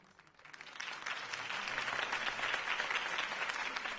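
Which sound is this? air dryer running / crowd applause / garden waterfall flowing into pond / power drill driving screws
crowd applause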